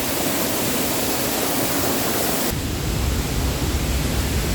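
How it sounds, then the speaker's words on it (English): A waterfall in Bali roars as a steady, broadband rush of falling water, close and loud, with the texture shifting slightly halfway through and no talking. "There is the waterfall."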